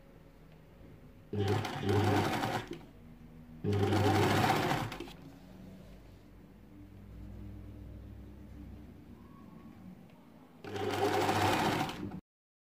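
A domestic sewing machine stitches a djellaba in three loud bursts of rapid mechanical running separated by pauses, with a softer hum of handling in between.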